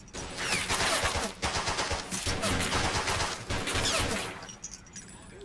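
Pistol gunfire in the war game Men of War: Battleaxe during a desperate attack low on ammo, a dense run of rapid sharp shots and crackling bursts, close and loud, tapering off near the end.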